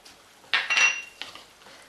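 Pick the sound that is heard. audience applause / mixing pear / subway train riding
mixing pear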